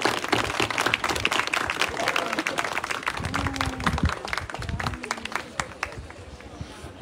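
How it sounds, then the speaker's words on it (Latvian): An audience claps through the closing ceremony of a bird-waking event at the Ainaži–Ikla border point, dense uneven applause that thins toward the end, with voices heard over it. "Aplausi sev!"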